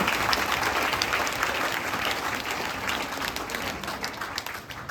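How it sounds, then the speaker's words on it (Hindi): Energetic, loud applause from an audience at a coaching institute welcome event honoring two young children, dense and continuous throughout with no voices standing out. "एक बार पुनः इन दोनों नन्हे बच्चों के लिए आपकी ऊर्जावान तालियां"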